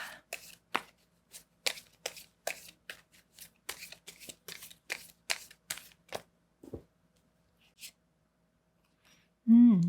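Tarot cards being shuffled and drawn, a quick run of dry crisp riffs and snaps close by that stops after about seven seconds, followed by a short loud thump near the end.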